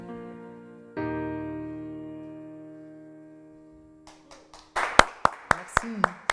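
A studio audience on a French television show claps after a singer finishes his song. Sparse, sharp claps start near the end and build into a short burst of loud applause following a sustained musical chord.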